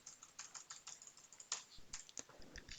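Quiet, rapid typing on a computer keyboard while writing Python code, a steady run of light key clicks with a few sharper taps, close up and with no voices.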